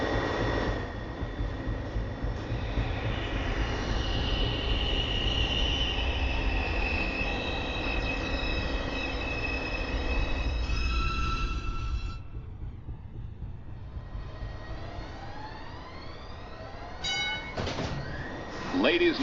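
A New York City subway train rumbles steadily through a station with a continuous roar and whine, easing into quieter hum partway through, then faint squeals and clanks near the end; no one speaks.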